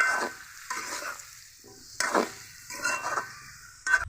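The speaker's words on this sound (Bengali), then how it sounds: "এখন দিয়ে দিব কেটে ধুয়ে রাখা চাল কুমড়োগুলো এবার ভালো করে মশলাগুলোর সাথে কষিয়ে নিতে হবে" Chopped ash gourd sautés with spices in a hot pan, bursts of sizzling and spatula scraping arriving in regular strokes about every second, close and moderately loud, no voices.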